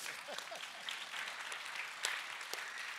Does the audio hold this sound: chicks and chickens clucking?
no